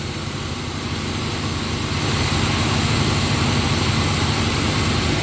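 A Cadillac Deville 472 V8 idles steadily after its dual AC and power steering V drive belts are replaced. It gives a continuous, even, fairly loud hum with no talking.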